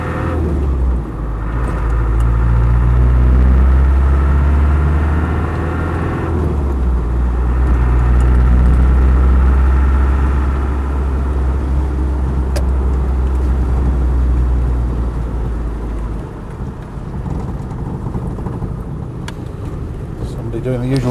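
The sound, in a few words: Land Rover 110 200TDi diesel engine driving along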